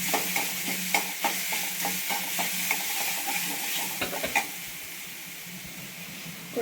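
A spatula stirs a pan of frying potato mixture with asafoetida, turmeric, chili flakes and carom seeds. Rhythmic scraping strokes sound over a constant close sizzle, then the stirring stops and only the frying hiss remains.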